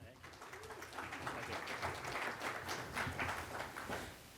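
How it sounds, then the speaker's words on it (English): Audience applause at a VR industry conference as a presenter walks to the stage, a moderate wash of clapping with some voices mixed in. "round of applause as he comes to the stage"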